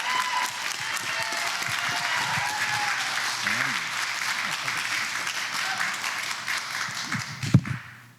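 Audience applause fills a conference hall as the president of Wirepoints is welcomed to the stage, steady dense clapping throughout with a brief louder burst near the end.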